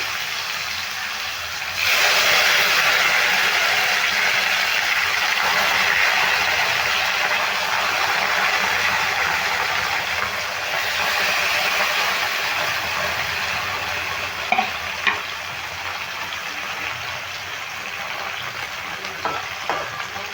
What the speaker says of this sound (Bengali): এবার এই পাতুলিগুলো আমি বসিয়ে দিচ্ছি তেলের মধ্যে দিয়ে দিলাম